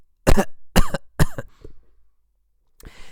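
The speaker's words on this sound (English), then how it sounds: "He didn't sneeze. He coughed." Three sharp, close coughs in quick succession, followed by a couple of softer throaty sounds and a brief breath at the end.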